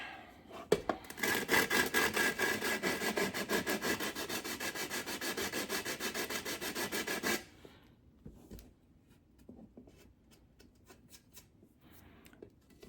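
An 80-grit sanding block rasps steadily back and forth along the edge of a glass shower door for several seconds, close and fairly loud, then stops, leaving faint handling noises.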